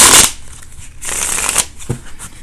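Tarot cards are shuffled up close in several quick riffling bursts, crisp papery flutters separated by brief pauses, with faint soft talk underneath.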